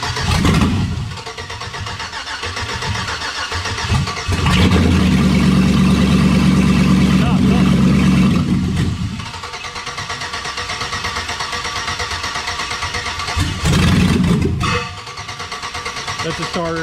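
Starter cranking on a V8 engine swapped into a Jeep Comanche pickup, with bursts of churning engine noise rising and falling over several seconds, close and loud, while people talk nearby.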